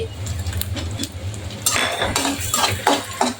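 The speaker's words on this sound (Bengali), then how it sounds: "এখন আমি এই তিনটা নুডলসের ককলা আর ম্যাগি দুটা মশলা প্যাকেটের যে মশলা ওইগুলা দিয়ে দিচ্ছি" A spoon stirring Maggi masala spice into noodles in a pan, with close metallic scraping and clinking of cutlery against the pan, getting busier in the second half.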